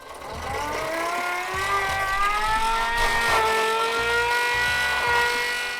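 A prototype centrifugal blower spins up, its whine climbing in pitch through rising harmonics, steady and close, with rhythmic low thumping pulses underneath.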